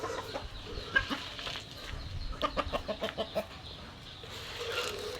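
Farm chickens cluck in a quick run of short, soft calls, a little distant and fairly quiet against a busy outdoor background.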